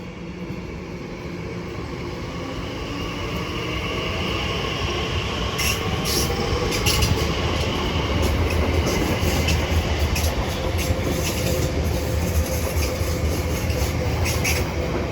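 Class 345 train 345067 departs Shenfield station on the Great Eastern Main Line, its rumble building over several seconds into a loud, steady roll of wheels with squealing and rhythmic clatter, close by.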